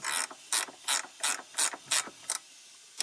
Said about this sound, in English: All right, now we're going to tighten it up.